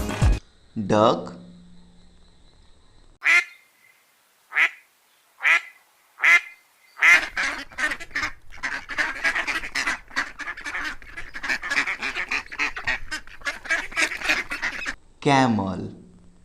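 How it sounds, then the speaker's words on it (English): A duck quacks in a few spaced calls, then a long run of rapid, loud quacking, with a short spoken word at the start and end. "duck,"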